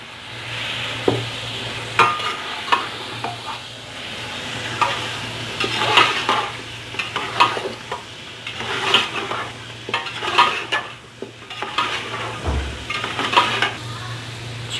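Chicken frying with roasted ground spices for Afghani biryani, a soft continuous sizzle with repeated stirring scrapes and spoon clinks against the pot, no talking.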